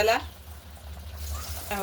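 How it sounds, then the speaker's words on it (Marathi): Coriander vadi fry in hot oil over a low flame with a soft, steady crackle, while a voice speaks briefly at the start and end. "आता आपण गॅस कमी करू आणि मंद आचेवर तळून घेऊ."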